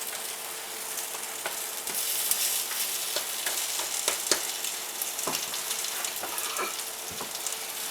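Grilled cheese sandwiches pressed down on a hot surface, giving a steady close sizzle with scattered crackles and pops throughout and no talking.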